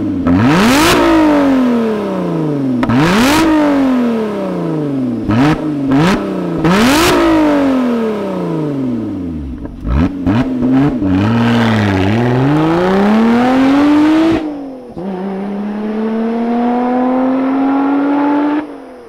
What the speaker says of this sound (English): let's fire up this supercharged Lotus Evora GT and hear what it